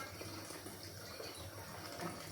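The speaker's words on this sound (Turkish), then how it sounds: "Çok az bir daha sıcak su döküyorum." Hot water poured in a small amount into a pot of soup in a home kitchen, a steady soft trickling and splashing that runs evenly throughout, fairly faint with no talking.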